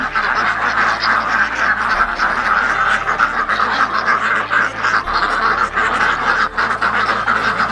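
Dense, continuous quacking from many ducks at once, loud and close, a raucous chatter with no pauses.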